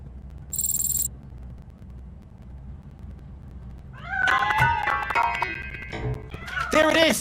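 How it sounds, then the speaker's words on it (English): A cat in the RoboCop video game gives several meow-like calls that rise and fall, hidden inside a piano. The calls come close and fairly loud in the second half, after a short high chime and quiet game ambience. "That cat must be hiding inside."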